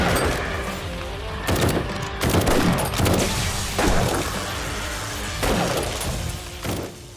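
Gunfire in the zombie survival game 7 Days to Die, loud bursts of shots and booming impacts in irregular clusters over a dense, noisy background.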